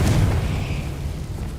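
A Confringo blasting spell explosion in Hogwarts Legacy, a deep booming burst that rumbles and fades over a second or so.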